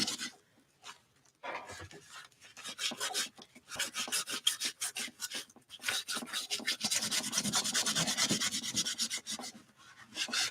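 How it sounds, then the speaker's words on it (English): Rubber cement being rubbed off an art journal page and stencil by hand, a close, dry scratchy rasping in quick strokes that comes and goes in bursts and grows denser toward the end. "I'm rubbing off the cement,"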